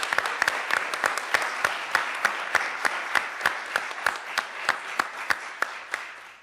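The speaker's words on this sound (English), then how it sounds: "we should give them a round of applause" Audience applause for two conference co-organizers at an academic panel event, heard as a steady run of regular, fairly distinct claps rather than a dense roar, with no voices, for about six seconds.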